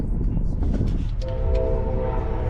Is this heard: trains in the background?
yes